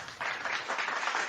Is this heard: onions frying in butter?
no